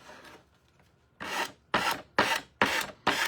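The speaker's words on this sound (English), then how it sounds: "I do need to sand off my excess." Sandpaper rubbing excess paint off a decoupage wooden sign, five quick rasping back-and-forth strokes, close and fairly loud, after a quiet moment.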